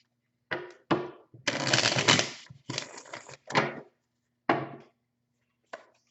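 Tarot cards shuffled and drawn: a few quick riffling bursts of stiff cards, one longer continuous shuffle, then separate short snaps and slaps as single cards are pulled and laid down, close and clear, with no talking.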